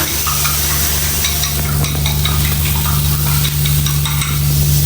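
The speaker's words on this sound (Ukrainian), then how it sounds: "Вливаємо туди яйця" Eggs poured into a pot of Chinese soup and stirred, giving a busy run of clinks and scraping over a constant low hum and faint simmering, close and fairly loud with no talking.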